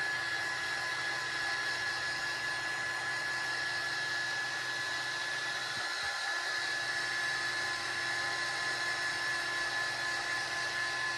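A hair dryer blows on a painted board with a steady, even whine and airy rush, running continuously at moderate level with no talking.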